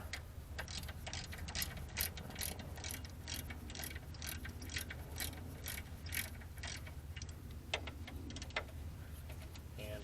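A hand ratchet clicks steadily in rapid repeated strokes while loosening brake caliper bolts on a 1997 Chevy Blazer, close and continuous over a low background hum.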